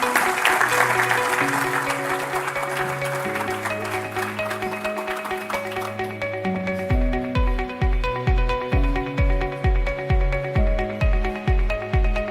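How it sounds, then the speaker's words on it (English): A conference audience applauds a speaker at an engineering academy event. Broad clapping starts strong and then fades, while tonal music with a pulsing beat plays over it and carries to the end. "Please give a round of applause to Professor Sebastião Feio de Azevedo."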